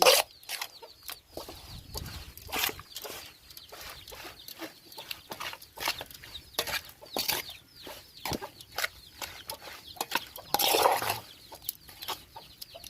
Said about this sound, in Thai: ไก่น้อยมาให้กิน